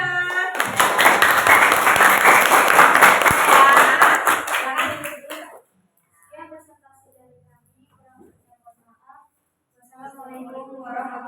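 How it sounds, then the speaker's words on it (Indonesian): Audience applause for a presenting group in an Indonesian classroom, loud sustained clapping for about five seconds, then quiet with faint voices speaking afterward. "aplaus untuk kelompok 5"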